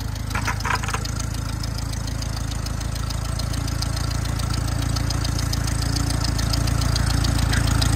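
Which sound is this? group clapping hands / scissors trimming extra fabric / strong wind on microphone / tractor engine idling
tractor engine idling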